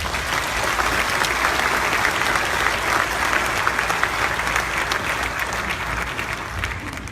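A large audience at a consultative workshop with the Philippine president-elect gives a big, continuous round of applause, dense clapping holding steady throughout without a break.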